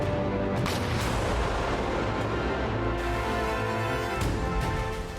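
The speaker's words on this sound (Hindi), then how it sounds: "रोबोताइन में इस क्लस्टर बम के प्रहार के बाद एक साथ कई धमाके हुए" A Russian RBK-500 cluster bomb strike in Robotyne, with several heavy explosions booming together, then a rolling crackle of secondary blasts and a couple of sharp reports, loud and rumbling and heard without talk.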